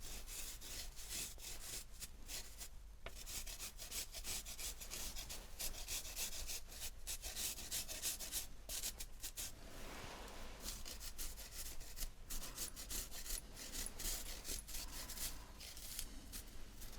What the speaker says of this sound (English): Just going to grate some of that garlic.